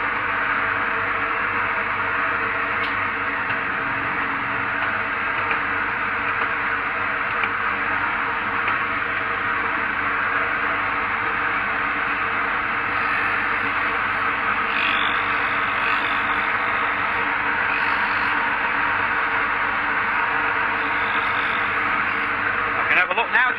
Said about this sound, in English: So I'm just going to start the grinder up and just throw it across